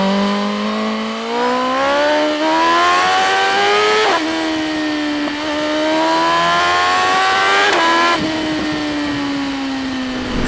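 A BMW M 1000 R motorcycle engine howls while riding, revving up through the gears in loud rising sweeps with quick drops at each shift, close and continuous.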